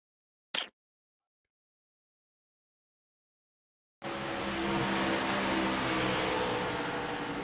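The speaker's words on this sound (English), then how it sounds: "that's when you hear everybody getting off the throttle" Stock cars racing in a pack in the iRacing Daytona 500 sim: a brief click, several seconds of silence, then a loud, sustained engine drone suddenly rises and holds steady.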